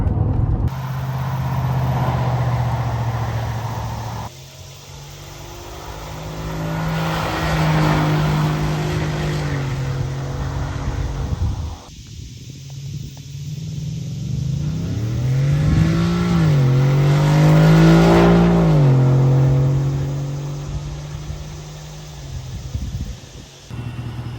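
Deep exhaust drone from a 2025 Ford F-150 with an MBRP S5211 cat-back exhaust, rising and falling through several accelerations and shifts, heard from inside with some wind noise.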